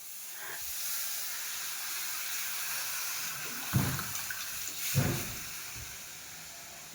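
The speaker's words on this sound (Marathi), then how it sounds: "आता आपण टाकू पाणी." Water poured into a pot of hot black masala vegetable curry produces a steady steaming hiss, broken by two dull thumps near the middle and a knock at the end, with no speech.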